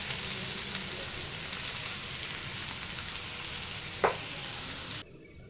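Diced potatoes fry with cumin seeds in a pan, a steady close sizzle with a brief clink of a utensil near the end before the frying cuts off.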